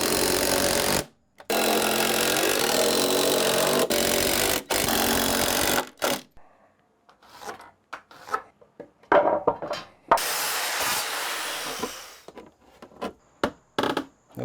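Power driver sinking two screws into wooden basement bulkhead stairs, heard as two loud sustained whirring bursts near the start, followed by quieter scattered clunks and handling noises.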